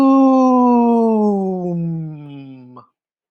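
A human voice imitates a lawnmower with one long, steady droning hum that slowly sinks in pitch and fades over nearly three seconds, heard alone.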